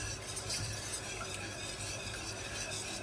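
Béchamel of butter, flour and milk is stirred steadily in a pan, a continuous close swishing and scraping over a gentle sizzle, with no talking.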